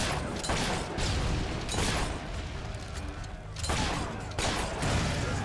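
Explosive bursts and loud rumbling blasts from combat in the video game Fable 3, a grenade sound like in Halo, recur in heavy waves with short lulls between them.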